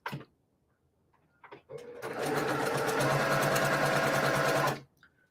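Sewing machine running quarter-inch seams on quilt pieces, a close, steady rattling whir lasting under three seconds, preceded by a few light clicks and brief handling.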